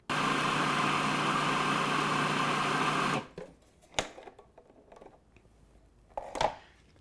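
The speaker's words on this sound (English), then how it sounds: "I'm going to pulse this, just get it kind of chopped up a little bit finer." A food processor whirs loudly and steadily as it chops cheese finer for homemade American cheese, then cuts off, followed by faint clicks and light handling knocks.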